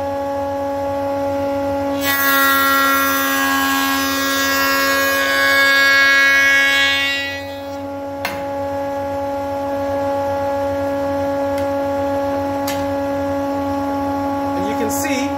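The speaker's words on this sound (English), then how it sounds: "So now I'm gonna go and joint this face." A woodworking jointer's motor hums steadily while a wood face is passed over the cutter head, adding a loud rasping cut for about five seconds before the machine returns to its plain running hum.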